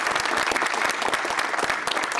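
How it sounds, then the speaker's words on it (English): A conference audience gives the organising team a brief round of applause, a dense, loud burst of many hands clapping close by, evenly sustained. "So just a quick round of applause"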